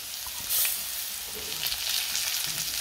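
Vegetables frying in a pan on a home stove, a continuous bright sizzle with light stirring scrapes running throughout, steady and close, with no voices.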